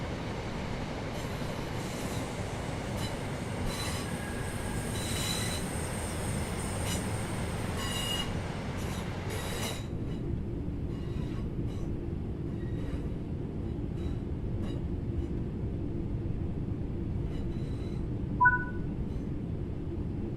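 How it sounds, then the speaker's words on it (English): A Class 323 electric multiple unit in Train Sim World 3 rumbles along with a loud, steady rolling roar, then drops to a quieter hum as it brakes, leaving a low drone and a brief high squeal near the end. "These units are known for their distinctive gear change whine when accelerating and braking."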